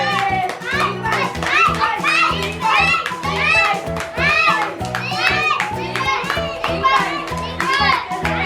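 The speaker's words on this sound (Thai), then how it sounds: "ส่งเสียงเชียร์กันด้วย" Children shouting and cheering excitedly during a toy tug-of-war game, their high voices overlapping in continuous loud bursts close by.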